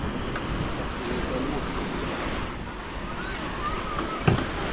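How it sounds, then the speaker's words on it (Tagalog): Heavy rain intensifying into a dense, steady hiss with wind blowing across the microphone, one sharp knock near the end. "Oh, lumakas na ang ulan."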